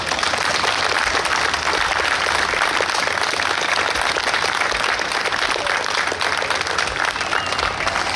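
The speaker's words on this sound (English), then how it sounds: "We think it's those guys that deserve a real round of applause for that." An outdoor crowd at a New York State Police special operations team demonstration gives sustained, dense applause, steady and fairly loud throughout with no speech over it.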